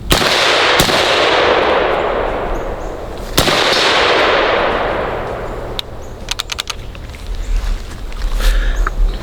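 Suppressed battle rifle shots from an H&K MR762 or Sig Spear M7, two sharp reports spaced a few seconds apart amid a loud, wind-like outdoor roar, followed by scattered fainter clicks and handling noise.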